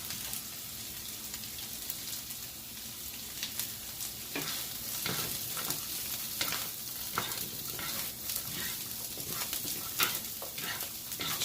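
Vegetables stir-frying with noodles and rotisserie chicken in a home kitchen: a continuous loud sizzle with crackling pops and frequent spatula stirring clatters, close up and without talk.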